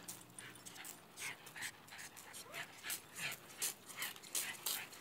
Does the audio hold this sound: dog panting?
yes